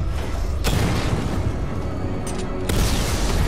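Tank cannon fire in the video game Batman: Arkham Knight, heavy booming blasts with two sharp impacts standing out over a continuous loud, rumbling game soundscape, no talking.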